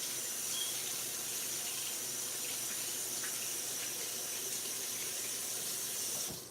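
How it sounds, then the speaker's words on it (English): Hands rinsed under a running kitchen tap, a steady close hiss of water flowing into the sink that stops abruptly at the end. "Rinse my hands off."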